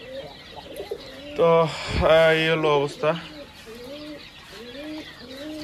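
Quail on a farm give repeated short rising calls throughout, fairly close, while someone speaks briefly over them in the middle.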